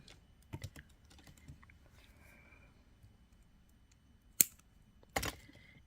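Wire cutters snip excess jewelry wire while two Halloween earrings are made, giving two sharp close clicks late on, with faint handling taps earlier in a quiet room.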